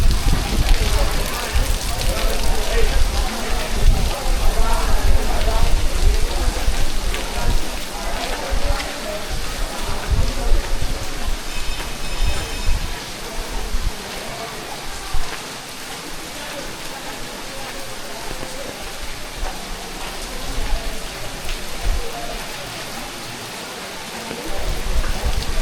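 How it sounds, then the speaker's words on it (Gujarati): Heavy rain pours steadily at the Pavagadh Mahakali hilltop temple, a dense continuous hiss close around with wind gusts, as people talk intermittently beneath the downpour. "જોઈ લો તમે ધમધોકાર વરસાદ ચાલુ છે અત્યારે."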